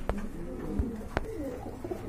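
Frillback pigeons coo close by in soft, rolling calls, with a couple of sharp clicks or wing flicks in between and no talk.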